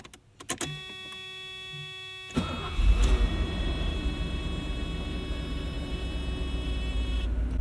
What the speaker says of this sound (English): let's just listen to this thing on a startup.